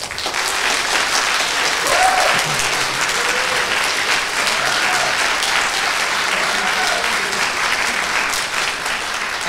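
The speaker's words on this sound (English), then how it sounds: "could I have a round of applause for all of those of you who would vote for the" Students and guests at a college speech night applaud to show support for the affirmative side of a debate, sustained loud, dense clapping from a large room lasting several seconds.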